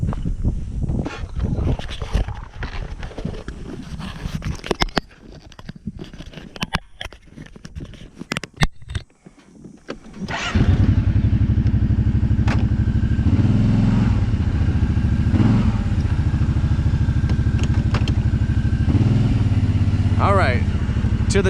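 Kawasaki Brute Force 750 ATV on mud tires in 100-degree heat: loud close engine roar with rising pitch as it accelerates, following a stretch of light clatter, footsteps and talk.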